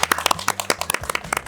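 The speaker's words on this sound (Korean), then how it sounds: "박수!" A small group claps in quick, uneven bursts at a Korean SK group gathering, close and crisp, the sharp hand claps lasting under two seconds with no talking.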